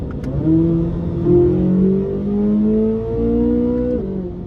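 From inside the car, the naturally aspirated engine of a 2023 Corvette Z06 pulls hard from 60, a loud rising engine note that climbs, shifts gears with brief dips, and climbs again.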